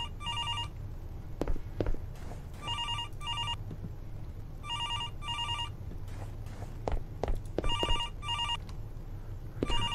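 A telephone ringing in the horror video game Don't Answer: repeated double-burst electronic rings at a regular rhythm, moderately loud, over a low ambient hum and occasional footsteps, with no talk.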